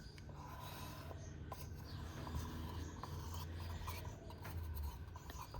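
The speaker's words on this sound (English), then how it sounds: "So I'm just going to scrape that." Eco resin is scraped off a fan-shaped wall hanging, giving a steady, close, rasping scrape that continues with little pause, fairly quiet and with no talk.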